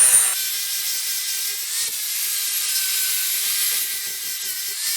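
A power tool grinds the edges of a new Vevor steel anvil mounted on its stand, giving a steady, loud, continuous whine with a faint tonal hum underneath and no pauses.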